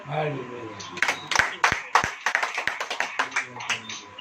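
A small church congregation claps in a loose, quickening rhythm, the claps sharp and fairly close, with a voice speaking at the start.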